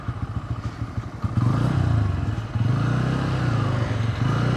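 A KTM motorcycle engine accelerates close by, its pulsing exhaust climbing in pitch through several rising surges, with some clatter underneath.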